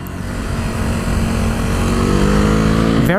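KTM Duke 390 motorcycle ridden on a tight, twisty road, its engine droning close and loud before rising in pitch as it revs and accelerates.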